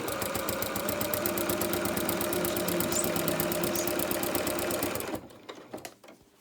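A sewing machine runs in a fast, even rhythm for about five seconds while stitching a vinyl-fronted project bag, then stops, leaving a few faint handling clicks.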